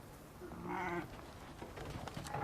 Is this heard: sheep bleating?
yes